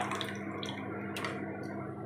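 Thin batter mixed in a bowl with no oil gives faint, soft wet sloshing and light dripping clicks, close by and steady, with no one talking.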